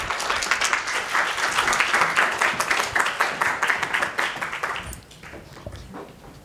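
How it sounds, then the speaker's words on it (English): Conference audience applauding warmly for a guest of honor stepping on stage, dense steady clapping that swells then thins out and fades after about five seconds. "A big round of applause for Ms. Rahayu, please."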